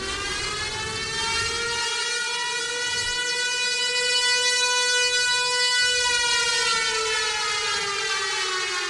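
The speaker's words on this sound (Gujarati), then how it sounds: "ભયજનક સિગ્નલ જે વાગશે સાયરન તેનો અવાજ પહેલા તૂટક હશે ને 2 મિનિટ માટે વાગશે" Civil defence air raid warning siren sounding during a mock drill, a loud sustained wailing tone with rich harmonics that rises and holds steady, with a brief dip partway through.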